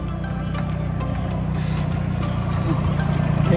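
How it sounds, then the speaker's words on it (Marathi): The miniature railway engine at Rudyard Lake chugs in closely with a steady low throbbing hum that grows slightly louder, and faint clinks sound over it. "हे इंजिन आलं आहे."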